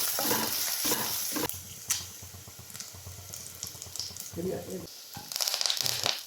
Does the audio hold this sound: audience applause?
no